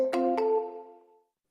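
A phone call placed during a live sales session sounds as two quick electronic chime tones that ring out together and fade over about a second, clear with no talk.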